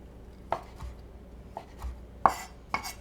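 A knife slicing Spam into strips on a cutting board, four or five soft, separate chops spaced irregularly, close and fairly quiet.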